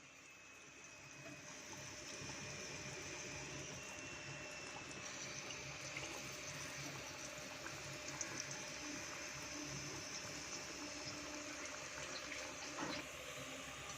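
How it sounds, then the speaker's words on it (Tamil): Jaggery mango fritters (vada) frying in hot oil, giving a steady, even sizzle that continues close by from start to finish with no voices. "எண்ணெய் நல்லா காஞ்சிச்சு, வடையை போட்டுக்கலாம்."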